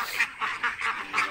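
Egg-laying ducks quacking nearby, five loud rhythmic quacks in quick succession with no talk.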